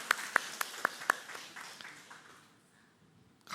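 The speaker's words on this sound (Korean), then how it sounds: "박수 한번 쳐주세요." A church congregation claps after a question is answered during a sermon: about five sharp, separate claps in quick succession up close, then a softer wash of hall noise that fades out.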